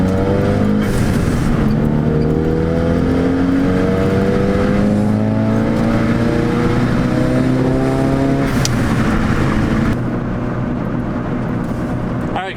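A Ford Focus RS accelerates hard on a highway, engine note climbing through the revs in a loud in-cabin drone, with a brief gear change around the middle before pulling again and easing off near the end.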